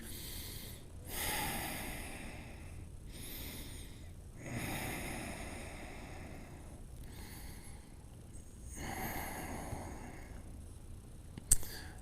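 Slow, audible breaths through the nose while holding a low plank in a strong morning yoga flow class, several drawn-out inhale and exhale surges spaced a few seconds apart, close and fairly soft, with no talking.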